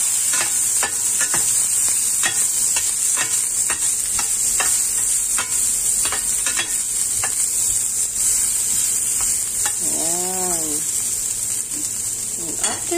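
Onion and garlic sautéing in cooking oil in a pan give a steady, close sizzle with a bright hiss, broken by repeated stirring clicks and taps. A short voice comes in briefly near the end.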